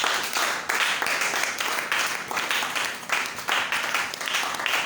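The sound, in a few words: congregation applauding and acclaiming the Lord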